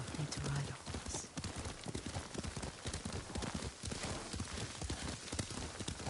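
Horse hooves clip-clopping at a steady riding pace in the video game Ghost of Tsushima, a close rhythmic run of hoofbeats throughout, with voices talking over part of it.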